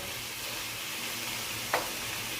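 Mutton with garam masala sizzles steadily in a hot pan while being sautéed, a constant close frying hiss with one brief scrape of a stirring spoon.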